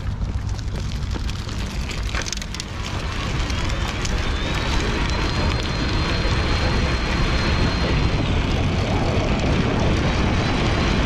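An EVELO Dash folding e-bike with a Sturmey Archer hub is pedaled as fast as possible in its lowest gear, giving a loud steady whirring rush mixed with wind noise and no breaks.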